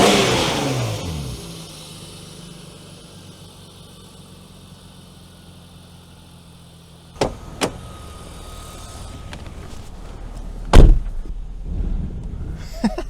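A BMW E34 with a swapped S52 engine fades from an opening rev into a quiet idle, followed by a few sharp door or interior clunks and a louder thump near the end, with no talk.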